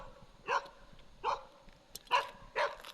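Four short dog barks from a moderate distance, spaced irregularly, with a faint yip in between against a quiet background.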